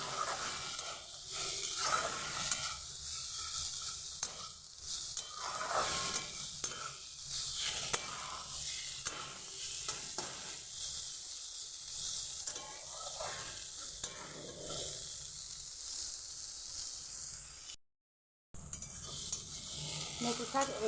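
Fenugreek greens frying in a pan while being stirred, a continuous sizzle with repeated scraping and clinking strokes of the spoon against the pan, moderately loud and steady throughout.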